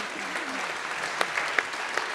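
Audience applause greeting two daughters of a professor as they come forward at an award ceremony, a steady even patter of clapping throughout with a few sharper claps standing out.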